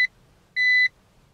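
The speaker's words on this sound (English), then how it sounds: "The car has finished beeping," A BMW sounds two clear electronic beeps after a newly programmed key goes into the ignition, a short chirp then a longer steady tone, alone in a quiet cabin.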